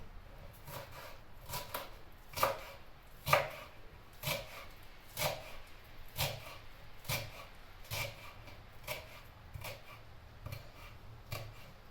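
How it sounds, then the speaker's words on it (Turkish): A knife chops purslane steadily on a cutting board, about a dozen crisp strikes roughly one per second, fairly quiet and close. "Semizotumu da doğradım."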